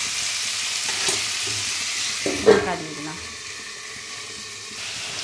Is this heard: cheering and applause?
no